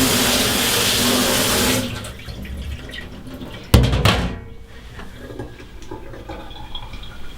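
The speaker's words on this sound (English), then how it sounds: "what I did was just rinse out this big strainer" Water from a tap runs hard as a big strainer is rinsed beneath it, then the flow cuts back after a sudden clatter, leaving quieter trickling and drips close by.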